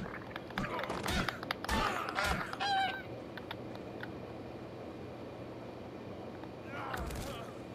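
A bird creature in the ARK survival game honks with several harsh goose-like calls, loud and close at first and again near the end, over a steady background hiss with brief thuds and a voice.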